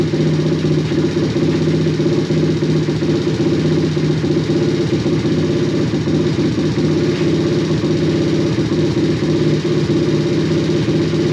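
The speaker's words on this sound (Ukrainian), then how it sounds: "Навіть на холостих працює." A motorcycle engine idles steadily just after starting, loud and close, with an even low rumble and no break.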